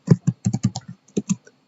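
Rapid clicking keystrokes on a computer keyboard while entering a Linux command, about a dozen close, crisp taps in an uneven typing rhythm, loud and alone with no voices.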